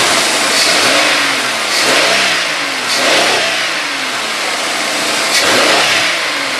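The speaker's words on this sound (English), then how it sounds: "So I'm going to give it a couple snap throttles here and we'll see how it responds." The engine of a 2001 Buick Park Avenue, being checked for a mass air flow sensor fault, is given several quick snap throttles: loud, close revs that surge and fall back in a repeating rhythm, with no talking.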